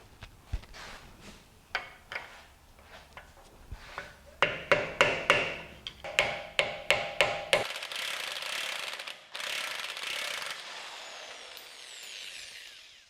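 Ratchet spinning off the axle nut on a BMW F30, a run of sharp clicking pulls with brief pauses between bursts, followed by a steadier whirring rattle, close and fairly loud with no talking.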